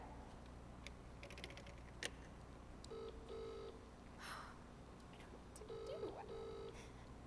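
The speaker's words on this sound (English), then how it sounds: "I'll call the operator again." A telephone being dialed in a radio play, with short clicking dial sounds and a few repeated electronic tone pairs, faint against a quiet background.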